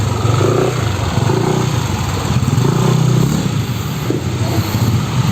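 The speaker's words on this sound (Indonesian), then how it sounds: "Albert mau nyobain motor gue lagi." A motorcycle engine runs steadily as it is ridden, with a rough, buzzy drone that pulses slightly in pitch over a few seconds, heard alone and fairly close.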